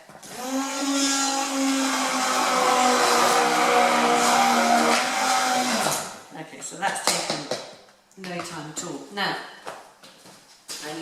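A blender whizzes asparagus soup with a loud, steady motor whine for about six seconds, then stops, followed by clattering of utensils and someone talking.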